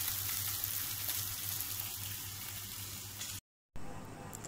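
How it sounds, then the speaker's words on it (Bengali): Larger fish fry in hot oil in a home kitchen, a continuous even sizzle held at moderate level, cutting out briefly to silence near the end before resuming. "আর এখানে যে একটু বড় সাইজের মাছগুলি ছিল এগুলো আমি ভেজে নিচ্ছি।"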